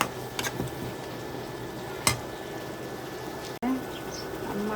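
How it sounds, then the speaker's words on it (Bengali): Fish added to a pan of fried spice paste with tomato, setting off a steady, close sizzle with occasional stirring knocks and brief scrapes. "এই যে মশলাটাকে কষিয়ে দিলাম, এবারে মাছগুলোকে দিয়ে দিই"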